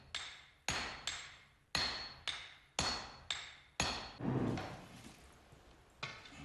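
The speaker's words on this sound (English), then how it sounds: "the steel is lengthened with one small hammer" A small hammer striking Japanese katana steel on an anvil during forging, about nine sharp ringing metallic blows at a steady, unhurried rhythm, close and loud with no talking.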